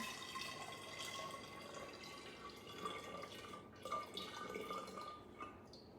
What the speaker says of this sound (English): I'm going to pour this into my lemonade container.